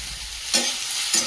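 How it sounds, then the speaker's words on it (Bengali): Okra and mixed vegetables sauté in a pan, with a steady sizzle and two quick scraping stirs, close and fairly loud, no voices. "ভেন্ডি দিয়ে দেব, সব দিয়ে দিলাম, দিয়ে ভালো করে কষিয়ে নেব"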